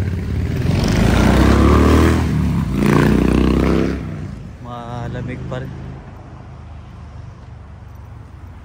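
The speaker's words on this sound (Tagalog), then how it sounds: "Ang ingay ng Harley Davidson na motor." A Harley-Davidson motorcycle engine roars loudly nearby at midday in New Zealand, a deep rumble that swells and then fades away after about four seconds, followed by a person speaking briefly over quieter ambience.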